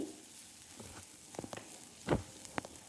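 Onions sautéing with salt in a pan: a faint, quiet sizzle with scattered light crackles and a few short scraping stir sounds, the loudest midway through.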